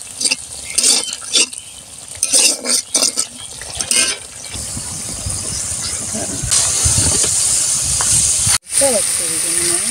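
Masala sautéing in a pan for a taro (kochu) curry gives a steady hiss and sizzle that swells in the second half, with scraping stir sounds early on and a brief cut near the end.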